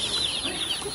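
Chickens cluck on a chick-raising farm, a quick burst of close, busy fowl calls with no voices.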